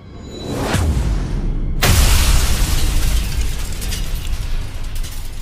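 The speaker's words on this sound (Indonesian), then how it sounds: "ledakan api meledak dari bawah" A fiery explosion bursts up from below, a whooshing blast that swells to a second, heavier boom and then rolls on in a long, loud rumbling roar.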